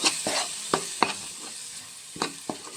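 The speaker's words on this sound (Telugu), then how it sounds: "ఈ కారం కూడా నూనెలో మంచిగా ఉడకాలి" Chili powder frying in oil in a pan for an egg soup, stirred with a few sharp utensil clinks over a soft, steady sizzle, close and quiet.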